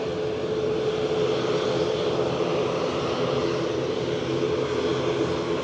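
An EasyJet passenger jet taking off at Lanzarote airport gives a steady, broad roar that holds at an even loudness for several seconds with no talk over it.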